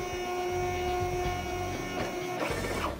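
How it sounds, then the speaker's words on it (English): A Zebra RXi4 industrial label printer feeds a few labels during on-pitch calibration, giving a steady close mechanical whir and hum that builds into a brief burst of motor and ratcheting noise near the end. "The printer feeds a few labels and automatically calibrates that label length."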